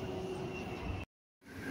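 Riding a Hong Kong MTR train: a steady rumble of the carriage, with a faint tonal hum, fills the clip, then cuts to silence for a moment before the rolling noise fades back in.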